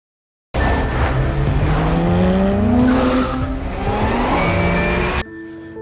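A red Porsche races at night in a film scene, engine roaring and rising in pitch with a tyre squeal as it speeds past, loud and close, cutting off abruptly near the end.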